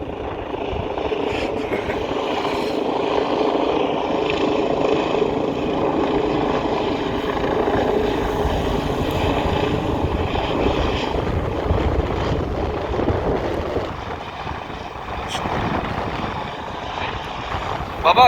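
A helicopter's loud, continuous rotor drone and engine whine fill the scene over a canal in Utrecht, Netherlands, steady throughout and easing slightly near the end.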